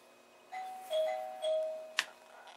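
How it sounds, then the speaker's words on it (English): A doorbell rings at home: a few soft electronic chime tones in sequence followed by a sharp brief ding, fairly faint and alone in a quiet room. "it was just my doorbell ringing with yet another delivery"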